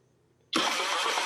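A Honda Beat scooter's faulty electric starter kicks in abruptly after a near-silent moment, then holds a loud, harsh, noisy whir close to the listener.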